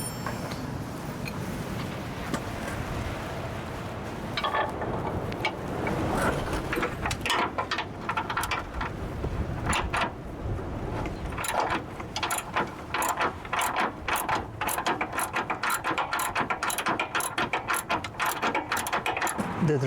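A ratchet wrench tightens 15 mm and 18 mm engine mount bolts on a 2005 Jeep Liberty, starting with slower bursts and building to a rapid, steady run of sharp, close pawl clicks, loud and unaccompanied by talk.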